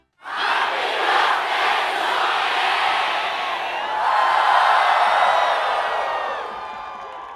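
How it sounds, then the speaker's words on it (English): A large crowd cheering and shouting a happy birthday at the end of the Sonic Generations video game credits, a loud, sustained roar of voices and whoops that swells midway and slowly fades. "the credits end with a crowd cheering Sonic a happy birthday"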